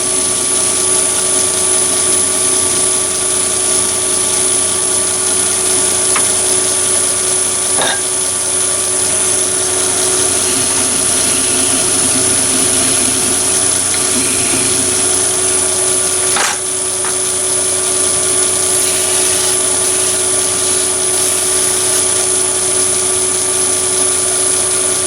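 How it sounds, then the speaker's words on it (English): A Chinese mini lathe spinning a metal gun oiler pot part while a handheld deburring tool works its edge, giving a constant loud machine whine and hum with a few faint scraping ticks. "That was the deburring tool that I used then."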